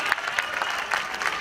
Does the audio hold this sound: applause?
yes